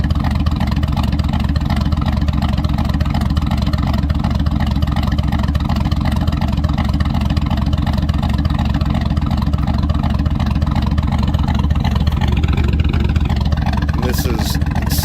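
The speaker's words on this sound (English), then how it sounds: "here she is idling at gear at about 660." Chevrolet Silverado with a BTR Truck Norris camshaft, stock manifolds and the muffler deleted, idling in gear around 660 rpm with a steady, loud, lumpy chop close by. A brief higher rev comes near the end.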